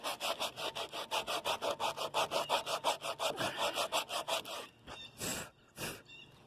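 Eroded teak wood sanded by hand with coarse 80-grit sandpaper, a fast even rhythm of about twenty-five rasping back-and-forth strokes up close, then a pause and a few slower, separate scrapes.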